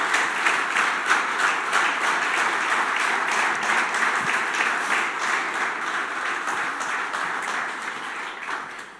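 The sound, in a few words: church congregation applauding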